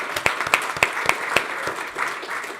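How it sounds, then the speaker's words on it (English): An audience applauds Minister Landsbergis at a keynote on safeguarding Europe, with several sharp claps standing out over a steady patter of clapping from a room full of people. "He deserves our applause"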